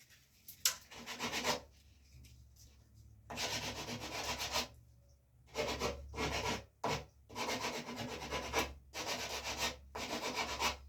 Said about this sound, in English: when you're doing cutting maneuvers with sandpaper, you definitely need a wooden sanding block